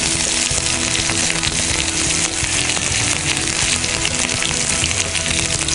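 Ginger-garlic paste frying with tomato-onion masala for a mixed vegetable dish, giving a steady, close, dense sizzle that holds evenly throughout with no voices.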